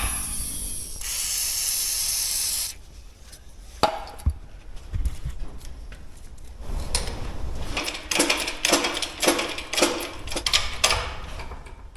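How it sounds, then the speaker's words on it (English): A sustained WD-40 aerosol hiss sprays for a couple of seconds, then gives way to clinks, taps and handling noises of metal parts while building a Dana 60 axle. "Another little trick is spraying it with a little WD-40."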